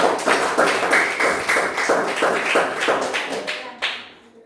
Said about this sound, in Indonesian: kita kasih tepuk tangan dulu buat kelompok.